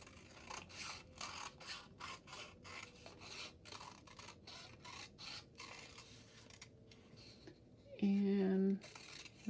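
Scissors cut paper along drawn lines for a first-grade winter bird craft, a soft rasping snip that repeats in quick strokes, close and quiet, with no talking over it.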